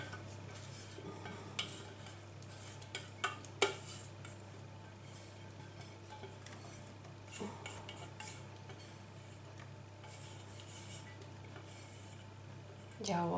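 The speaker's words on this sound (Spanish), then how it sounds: "Con una varilla o con la cuchara de madera, vamos moviendo." A wooden spoon stirs homemade liquid dish soap, soft stirring and scraping in a container, with occasional light knocks against the side, quiet and close over a low hum.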